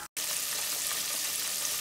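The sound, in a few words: chicken frying in oil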